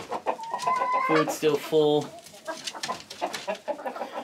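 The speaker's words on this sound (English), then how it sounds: "so 12 chickens in here total" Chickens in a backyard coop on a small farm, a flock of twelve including one rooster, cluck and murmur close by while a person talks.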